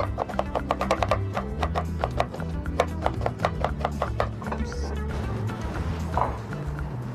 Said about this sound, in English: First, we'll chop up half an onion.